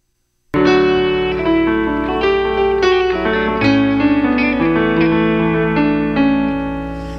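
A remixed theme song plays loud and full, its synth melody and bass layered with added guitar and washed in reverb and compression, sustaining busy sequences of notes from start to finish after a brief silent opening.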